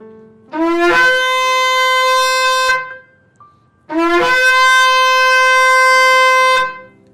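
Two long, loud tekiah blasts of a shofar, each sliding up into a bright, brassy sustained tone, separated by a short pause.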